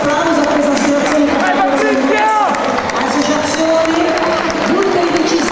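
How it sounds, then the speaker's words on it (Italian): Outdoor crowd clapping and cheering at a horse-breeding association event near Rome, a steady wash of applause mixed with a voice over a loudspeaker and scattered background noise throughout. "un grosso applauso a questa associazione"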